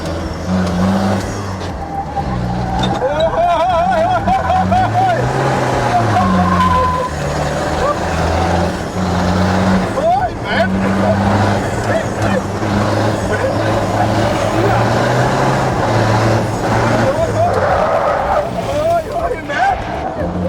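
A car brakes hard again and again to warm up its TRW brake discs, with the engine revving, tyres squealing and skidding in repeated surges, all close and loud, while someone talks over it.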